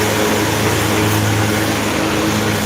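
A blue city transit bus passing close by, its heavy diesel engine rumbling loudly and steadily with a low drone throughout.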